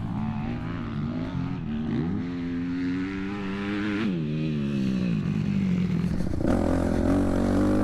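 A 2004 Yamaha YZ250 two-stroke dirt bike engine runs steadily close by, with a buzzy, wavering pitch that dips and rises as the throttle is blipped, alone without speech.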